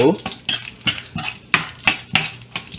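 A metal spoon stirs spices frying in a pan for tempering for avocado chutney, scraping and clinking in regular close strokes about every half second over a light sizzle.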